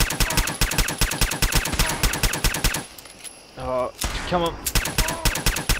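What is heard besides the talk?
gunfire in a video game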